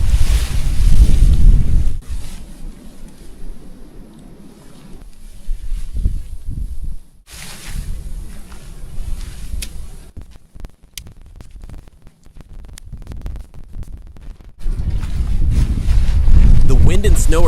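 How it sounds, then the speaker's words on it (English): Strong wind gusts roar through a snowy forest during a -17°C winter storm, with loud broadband buffeting surging at the start and end and quieter stretches between, punctuated by scattered crackles and knocks. "The wind and snow are getting really strong."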